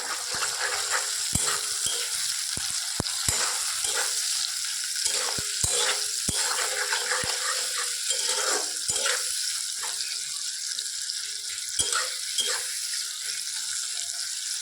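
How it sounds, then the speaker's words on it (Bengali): Chopped onion sizzles in a pan of oil with salt and cloves while preparing pulao, a steady near crackling fry broken by frequent clicks and scrapes of a spatula stirring, with no voices. "তারপরে পেঁয়াজ কুচি ওপর থেকে একটু নুন দিয়ে দেবো যাতে একটু তাড়াতাড়ি ভাজাটা হয়ে যায়"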